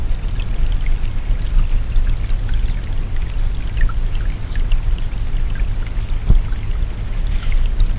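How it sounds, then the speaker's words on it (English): Water at Chegworth Water Mill escapes over a small weir or sluice, making a steady, loud, continuous rushing and splashing that never breaks. "the water is allowed to escape over a small weir or sluice"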